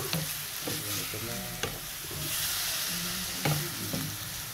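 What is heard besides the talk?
venison dish stirred and sizzling in pan as sauce is added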